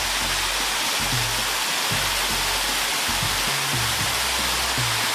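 Constant roaring wash of a waterfall spilling into a basin below, in Mableton during summer; the heavy hiss stays loud and even throughout, close by, without any voices over it.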